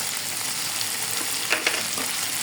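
Chopped onions hit hot oil in a pan for a shrimp and okra chorchori, giving a steady broadband sizzle throughout with a couple of brief stirring clatters near the middle, close and moderately loud, no voices.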